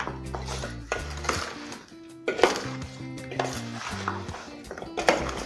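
Mango pickle ingredients for Andhra avakaya being mixed by hand or spoon in a metal vessel, with clattering, scraping knocks of steel and utensils recurring close and loud in an irregular rhythm.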